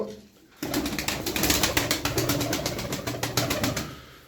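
A flock of pigeons coos beneath a rapid, rhythmic fluttering clatter that starts abruptly and stays loud and close.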